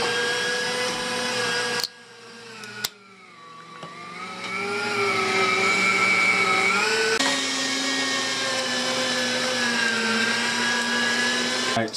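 An electric meat grinder working meat for kielbasa, a steady loud motor whine with shifting pitch as pieces are fed through one by one, broken by two short clunks near the start.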